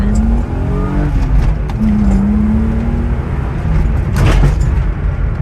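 An E36 on budget coilovers rolls over bumpy New York City streets, its steady engine drone loud and close, with a rising whine and a brief burst of road and suspension noise near the end.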